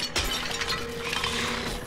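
A jar shatters in Diablo 3 on Xbox 360, one sharp breaking crash with glassy clinks and scattering shards over about two seconds, loud and close.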